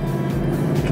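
The 6.2 litre V8 of a Mercedes SLS AMG rumbles close by with a deep, steady, throbbing drone.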